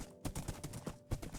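Horse hooves clip-clop on the ground in the Minecraft 1.10 video game, a quick run of several soft, close thuds in an uneven trotting rhythm, with no talk over them.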